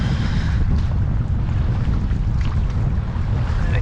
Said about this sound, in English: Yeah, it's really blowing here now.